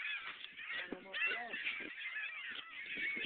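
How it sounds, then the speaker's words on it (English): Birds honk in a rapid, overlapping chatter while being fed, goose-like calls fairly faint and continuous, with a voice briefly audible underneath. "That was Ruben feeding the bird."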